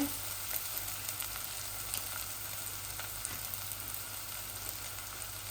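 Onions fry in a pan for Bangladeshi iftar cooking, a steady close sizzle and crackle with occasional small pops and no talking.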